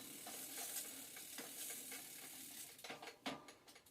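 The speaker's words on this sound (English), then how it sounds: "This is a pedal wrench, so we're going to spin it around." A bicycle pedal spun onto the crank arm with a 15mm pedal wrench, giving a faint metallic whir and rattle that breaks into a few sharper clicks near the end, close up and without voices.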